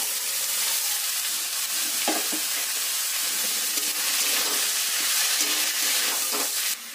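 Marinated jackfruit fries in a pan with onion, garlic and ginger paste, a loud continuous sizzle and hiss broken by a few scraping stirs, close up, with the sound dropping off abruptly at the end.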